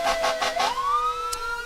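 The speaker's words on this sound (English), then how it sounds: "The Apple Valley Fire Department is a volunteered, paid-on-call department that has loud sirens" Apple Valley Fire Department fire truck siren at a parade, loud and close, starting with short pulsed whoops and then gliding upward into a sustained wail.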